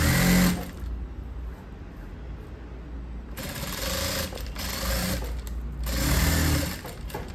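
A sewing machine stitches blouse fabric in a tailoring session, a steady whirring hum that drops to a lower idle, then speeds up again, loud and close with no talking.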